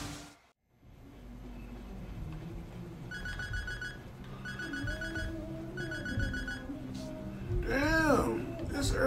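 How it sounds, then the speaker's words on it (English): A phone rings in the Sleeping Dogs video game, repeating in short electronic bursts under background game sounds and music, with a brief whooshing effect near the end. "Y'all already calling my phone?"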